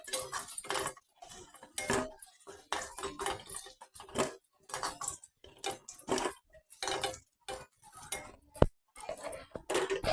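Fried potatoes are lifted out of the pan and set onto a metal plate, giving a series of scattered clinks and scrapes of utensil against metal with short quiet gaps between them.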